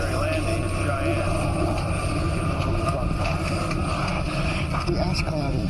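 A passenger airplane's engines droning in flight before a precautionary landing in Cheyenne, a steady, loud, tonal roar filling the cabin with a voice speaking over it.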